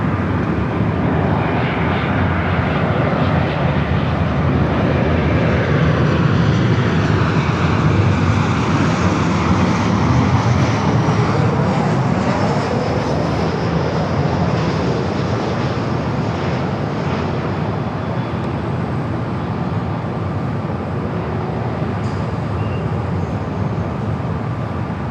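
An Alaska Airlines airplane at LAX airport roars steadily and loudly for the whole stretch, a broad continuous jet engine rumble and hiss that stays close without fading.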